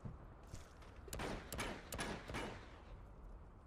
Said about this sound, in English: Really? You're shooting at the wall?